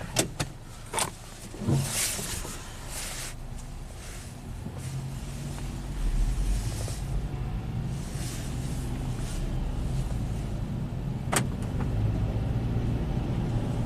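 A Nissan with a CVT transmission showing a fault at 107k miles is taken on a test drive: a few sharp clicks and knocks at first, then a steady low engine and road drone that holds on.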